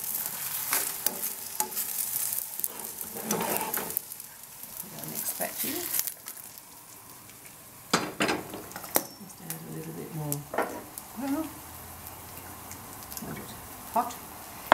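Eggplant pieces frying in hot oil in a pan, giving a broad crackling sizzle with stirring clatter and scattered bursts, moderately loud and close, with a person talking at times over it.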